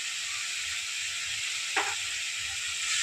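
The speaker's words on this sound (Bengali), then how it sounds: "যেটা ভালো করে নাড়াচাড়া করে নেব, নিয়ে কষিয়ে নেব" Spices for a fish curry (chili powder, turmeric, pepper and cumin) sizzle and fry in a pan with a steady, close hiss, and a single brief scrape of stirring sounds midway.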